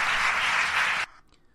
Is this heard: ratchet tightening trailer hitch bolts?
no